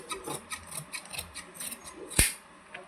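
Scissors cut cloth along a marked line with soft, rhythmic snipping and rubbing strokes, ending in one sharp louder snap, close and fairly quiet.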